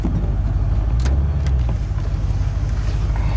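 A 1982 Ford F150 truck engine runs close by at a steady idle, a loud low rumble that holds evenly throughout, with a brief rattle near the start.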